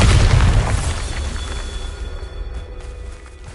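A Bombarda spell explodes in Hogwarts Legacy with a loud, deep boom that rolls off into a long, fading rumble.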